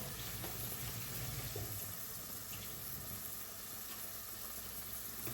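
Hot tap water runs steadily into a sink in a home kitchen, making a continuous, even hiss with no break and no voices.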